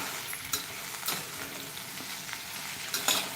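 Okra fries in hot oil for a home-style bhendi masala, a dense, even sizzle close up with occasional stirring scrapes and clinks, no speech.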